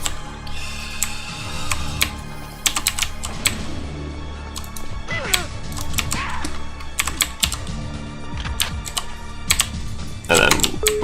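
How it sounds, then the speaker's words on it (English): Sharp, close clicks from typing on a mechanical computer keyboard come in irregular clusters, with a dense flurry near the end, over a backdrop of game sounds. "My keyboard is mechanical, so apologies if the clicks are annoyingly loud."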